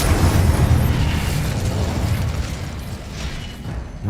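A fire spell cast in Hogwarts Legacy erupts in a loud, steady roaring blast. Deep rumbling flame noise holds for several seconds before easing slightly.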